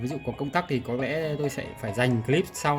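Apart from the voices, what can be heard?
No everyday noises stand out.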